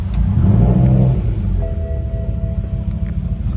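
A BMW M5 E60 V10, rolled and with suspect injectors, starts with a loud low rumble and then settles into a steady, slightly uneven idle, close and alone.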